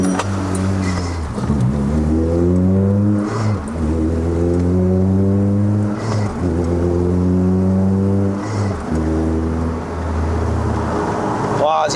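A Toyota Vios with a 1.8L 2ZZ-GE VVTL-i engine on a test drive in Malaysia pulls hard, its loud engine note rising repeatedly through the gears with short dips at each shift, droning close inside the cabin.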